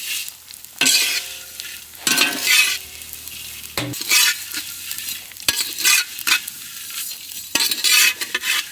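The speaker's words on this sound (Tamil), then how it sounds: "சேமியா வறுக்கிறதுக்கு சுத்தமான நாட்டு பசு நெய்." Vermicelli fries and is stirred in pure native cow ghee in a pan for payasam. A crackling sizzle comes in repeated bursts, with scraping stirs and occasional metal clinks close by and no talk.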